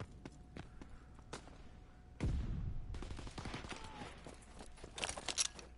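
Machine gun fire in a video game, sharp scattered shots followed by a heavier rattling burst and continued crackling gunfire at moderate distance.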